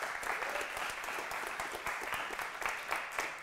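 An audience at a home security alarm sales training event applauds. The clapping is dense and steady, moderately distant and fairly quiet, with no voices over it.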